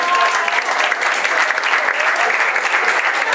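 An audience applauds at a municipal inauguration ceremony, with loud continuous clapping from a sizable crowd that stays steady and close for the whole stretch, with no speech over it.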